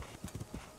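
Horse hooves clip-clopping in the video game Zelda Tears of the Kingdom, from a horse with a beige mane: a brief burst of several quick, even hoofbeats at walking pace, near and clear.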